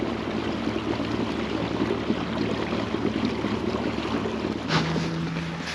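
A small electric trolling motor on a kayak, a MotorGuide Xi3 Saltwater, hums steadily underneath a wash of water and wind noise, mounted too shallow, with no one talking.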